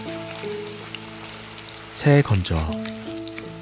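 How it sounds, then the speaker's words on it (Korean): A steady, crackling sizzle of shredded perilla leaves frying in oil in a pan, with a voice speaking briefly over it. "깻잎채를 한 줌씩 넣어 튀기듯 젓가락으로 풀어가며 볶아주세요."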